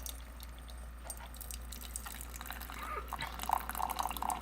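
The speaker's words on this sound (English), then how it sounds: "The water goes directly down into the cup and doesn't splash all over." A Keurig B60 single-cup coffee maker dispenses a 10-ounce brew straight down into a cup, a faint steady trickle with soft drips that grows a little livelier near the end over a low hum.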